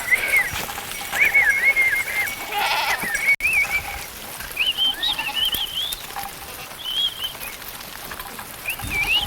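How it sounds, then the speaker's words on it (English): Goats bleating repeatedly at varied pitch as they are led by herding pupils to grazing grounds, several calls near and far over a steady outdoor background. "they lead the goats to grazing grounds"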